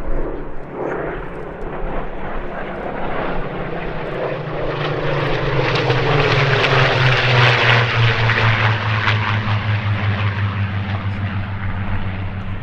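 Nine Spitfires fly in formation and a tail chase at the 2024 Sywell airshow, their propeller engines building into a loud, continuous roar that swells and sweeps past overhead, with no speech.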